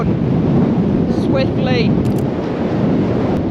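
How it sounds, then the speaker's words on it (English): Strong wind roars steadily across a Patagonian mountain summit, buffeting the microphone in a loud, continuous rush while a voice speaks briefly over it. "It's windy."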